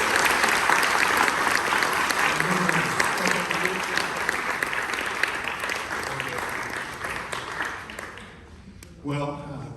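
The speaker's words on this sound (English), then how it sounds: "how about a nice round of applause for the horns here?" Sustained applause from a jazz concert audience greets the horn section, dense clapping fading toward the end as a voice begins speaking.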